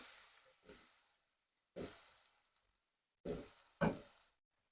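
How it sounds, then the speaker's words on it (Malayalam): Chopped onions hit a hot pan for a beef mandi, giving four short sizzling bursts, each sharp at onset and fading quickly, with quiet gaps between them. "ഇനിയിപ്പോൾ ഞാൻ ഈ അരിഞ്ഞ് വെച്ച ഉള്ളി അതിലേക്ക് ഇട്ട് കൊടുക്കുകയാണ്"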